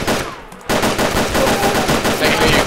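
Gunfire in the video game DayZ: after a brief quiet moment, a loud, rapid run of close shots bursts out and continues in repeated volleys, with faint voices in the background.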